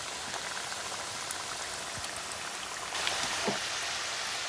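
Cassava pieces frying in hot oil for yuca fries, a steady crackling, bubbling sizzle heard close and alone, growing slightly louder near the end.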